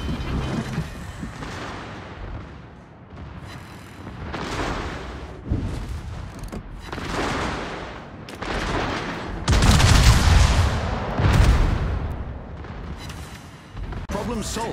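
Gunfire in a military shooter game: bursts of shots and heavy booms roll through a busy battle mix, growing loudest in a dense barrage toward the end, with voices speaking over parts of it.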